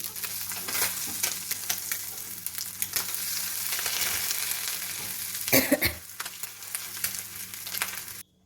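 Fish sizzles steadily in a hot pan at home, a close, continuous frying crackle with occasional sharper pops and a brief burst of louder spattering.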